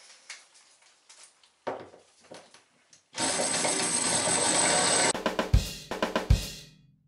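A power drill bores a 6mm hole into a wall while an electric shower is being installed, a loud steady whine of about two seconds after scattered handling clicks, then several sharp knocks.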